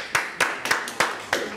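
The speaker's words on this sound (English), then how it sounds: "Good, give him a round of applause" A handful of sharp, separate hand claps ring out in a small room after a student presentation, about five evenly spaced slaps within under two seconds rather than a full round of applause.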